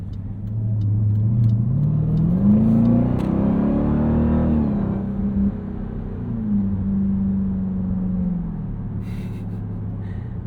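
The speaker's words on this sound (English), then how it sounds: "sometimes you get these really deep belches from the transmission between gear, well, from the exhaust, but it's when the car's changing gear" 2023 Dodge Durango SRT Hellcat engine revving up through gears, deep exhaust rising in pitch then dropping as the transmission shifts, with a throaty belch between changes, close and loud.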